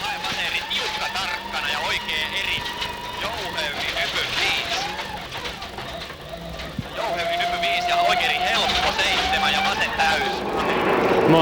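A 1999 Rally Finland rally car is heard from onboard on a gravel stage, its engine climbing and dropping through gear changes as it races along. Loud and continuous, it rises further toward the end.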